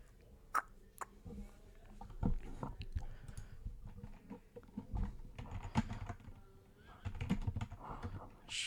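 Typing on a computer keyboard with slippery keys, heard as irregular clusters of close, light clicks and taps, with bursts of quicker keystrokes alone over a quiet background.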